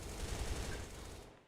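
An HK gun in a video game fires in a dense, rattling automatic burst, loud and continuous before fading out, with no voices over it.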